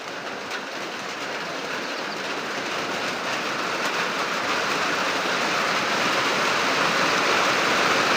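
Steady, dense rain pours outdoors on a morning, a broad continuous roar that swells slightly louder toward the end, with no voices.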